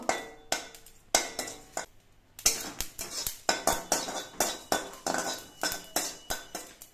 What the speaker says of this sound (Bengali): এই শুকনো লঙ্কা আর মৌটা আমি বেশ ভালো করে ভেজে নেব